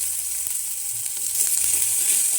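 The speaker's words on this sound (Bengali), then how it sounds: "দিয়ে কিছুক্ষণ কষতে থাকবে।" Garlic paste, bay leaf and ginger paste fry in a pan with a steady, close hiss and a few soft scraping touches, with no voices.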